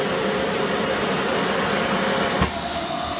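A Miele PowerLine Blizzard CX1 vacuum cleaner runs steadily and loudly with a continuous broad whoosh and a high motor whine that rises slightly in pitch, with a brief bump partway through.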